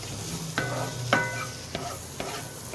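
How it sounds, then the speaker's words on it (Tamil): Curry ingredients for a Tamil anchovy (nethili) fish curry being sautéed in a pan, with a soft continuous sizzle broken by four or five sharp scraping clinks of a spatula against the metal, close and alone. "இதெல்லாம் போட்டு நல்லா வதக்கிக்கணும்."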